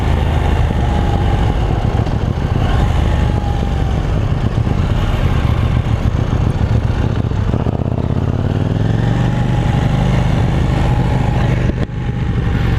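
A KTM 790 Duke motorcycle engine under way in street mode, a loud, dense rumble as the throttle closes and opens again, with revs falling and then rising in a smooth sweep near the end.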